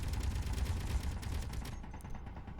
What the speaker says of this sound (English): we're getting fired at by an interior turret